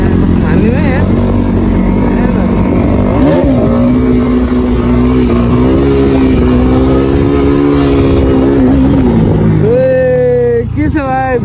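A Bajaj Pulsar NS200 motorcycle engine drones loud and close, its pitch rising and wavering as the rider holds a wheelie, then the engine blips and revs sharply near the end.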